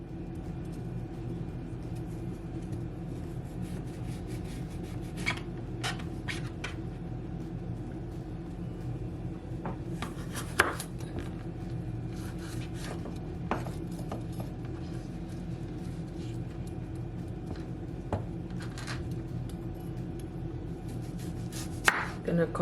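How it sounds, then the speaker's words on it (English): A knife chops a peeled carrot on a board in a home kitchen, giving a series of faint, irregularly spaced taps over a steady low background hum. "So I just remove the peel from the carrot. So now I'm just gonna cut it."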